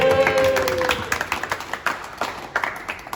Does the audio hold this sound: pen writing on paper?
no